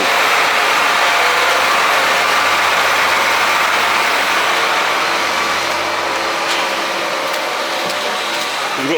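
A John Deere 310R tractor engine drones steadily and loudly while driving a slurry pump on a farm, a dense continuous roar with little change throughout.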